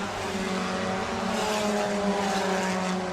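Late model race cars roar around Crawford County Speedway, a steady, loud blend of engines holding a droning pitch without a break.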